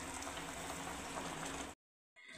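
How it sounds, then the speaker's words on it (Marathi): Jujube berries boil vigorously in thick jaggery syrup with a pinch of salt over a high flame, giving a steady close bubbling roar that cuts off abruptly into silence, then resumes briefly. "गूळ घालून 8 ते 10 मिनिटं मी मोठ्या गॅसवर बोरं छान असे उकळवून घेतले"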